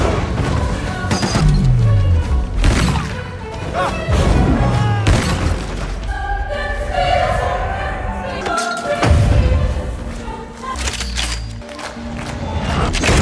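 Gunshots and impact booms in a tense film scene, several heavy thuds and bursts landing close and loud amid a busy score and effects mix, with a voice talking over part of it.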